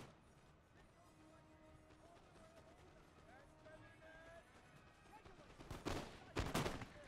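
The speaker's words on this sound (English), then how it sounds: "Both sides are taking heavy casualties here in this heavy exchange of fire." Musket infantry volley fire in Napoleon Total War, the 42nd Foot Black Watch among lines of foot soldiers trading shots, a continuous crackle of distant gunfire that swells into loud, heavy volleys near the end, with a voice talking underneath.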